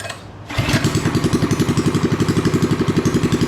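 A 212cc engine swapped into a Coleman minibike that was once sunk catches after a brief quiet moment and settles into a loud, close, steady running putter with a fast, even pulse.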